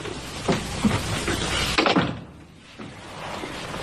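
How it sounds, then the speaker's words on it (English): An indoor door being closed, a dull thump with some rattle amid room noise, followed by a quieter settling; no speech. "May I close this door?"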